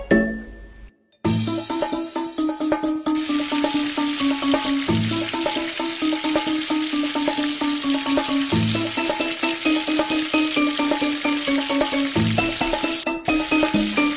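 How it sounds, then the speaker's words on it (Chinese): Slices of firm tofu dipped in starch and beaten egg fry in hot oil, a loud, dense, continuous sizzle after a brief quiet start, with occasional light clinks, close and without talk. "下锅开炸"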